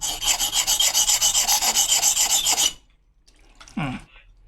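A rubber-tapping knife is drawn back and forth over a 500-grit whetstone in fast, even rasping strokes, loud and close, then it stops and a short scrape and knock follow.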